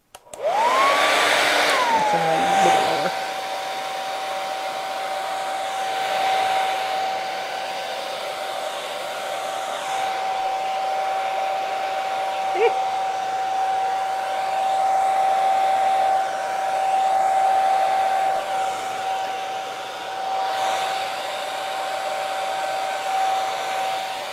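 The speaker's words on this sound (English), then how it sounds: "I stuck the hairdryer in it again." A hair dryer starts up and blows continuously into a crafting pot of neon colors, with a steady, loud whine and rushing air, running unbroken for the whole stretch.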